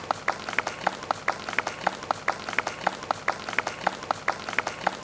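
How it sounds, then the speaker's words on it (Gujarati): Steady, evenly spaced clapping from an audience at a Patel community Sneh Milan gathering in Bhambhan, fairly close and continuous, with no voices over it. "વધાવો એને એમને તાળીઓથી"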